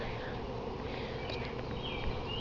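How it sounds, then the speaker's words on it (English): Honey bees at a hive, a dense continuous buzzing swarm close by, fairly quiet and even throughout. "Look at all them bees."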